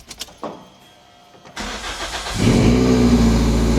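A Toyota MR2 Mk3 engine is started after a Mishimoto radiator was fitted. A few clicks and a short starter whir give way to the engine catching and settling into a loud, steady idle close by.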